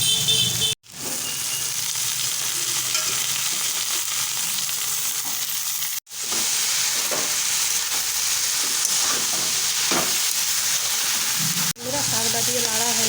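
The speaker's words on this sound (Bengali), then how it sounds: "এবারে কেটে রাখা পালং শাকগুলো দিয়ে হালকা নেড়ে নামিয়ে নেব।" Vegetables sizzle and hiss in a hot pan as chopped spinach is stirred in, a steady crackling fry broken by a few brief cuts, with a voice speaking now and then.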